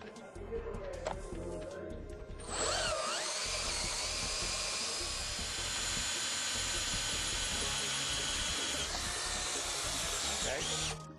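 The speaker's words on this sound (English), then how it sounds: "And drill a hole." A Reed DM3MECH hot tapping machine bores a hole into a pressurized pipe, starting as a few clicks and a low rumble, then rising into a loud, sustained high-pitched drilling whine that runs steadily for about eight seconds before cutting off.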